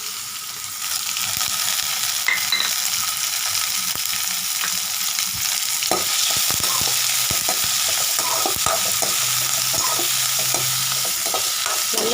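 Ginger and curry leaves frying steadily in a hot pan, a continuous close sizzle with crackling pops and scraping stirs from about six seconds on; no talking.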